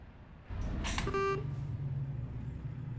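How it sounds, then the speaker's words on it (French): A loud truck horn blares once for about half a second after a thump, followed by a low idling engine rumble that continues nearby. "moi j'ai le droit de klaxonner"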